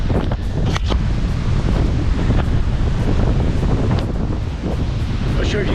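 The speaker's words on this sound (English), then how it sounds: "the wind is crazy strong" Strong wind blowing over open water, a constant loud rumbling buffet against the microphone with wave wash mixed in and no letup.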